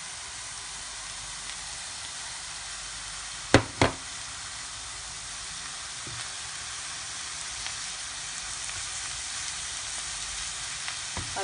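Grated carrot and green zucchini frying with browned onion in a pan, a steady close sizzle throughout with a couple of sharp utensil knocks partway and faint scrapes later.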